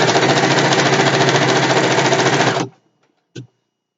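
A sewing machine stitches a satin pillowcase in a loud, fast, even run of needle strokes close by, then stops abruptly, followed after a pause by one short mechanical clunk.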